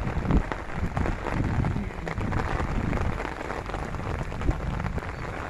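Steady rain falls on hard surfaces at a city zoo in Guarulhos, São Paulo, a loud dense hiss with scattered louder drops throughout and no voices.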